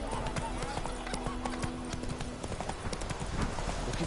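Hooves of Roach, a horse in The Witcher 3, clip-clop at a steady walking rhythm throughout, fairly close, with game music and voices underneath.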